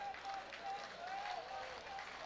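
Baseball stadium crowd at an Auburn vs UCF college game cheers and claps before a two-strike pitch, a faint, distant swell of noise with a voice heard over it.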